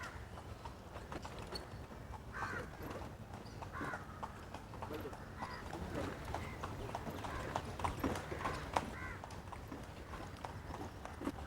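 Horse-drawn tanga cart moving along with steady clip-clopping hooves and rolling wheel noise, moderately near, under busy outdoor background and voices talking.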